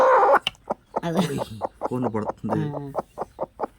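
A hen clucking nearby in a series of short, repeated calls, then a run of quick, evenly spaced clucks toward the end, with no people talking.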